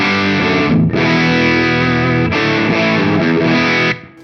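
An electric guitar plays overdriven chords and sustained notes through a Hamstead Artist 60+RT amplifier in 60-watt mode, loud and up close, with brief breaks between phrases before ringing out.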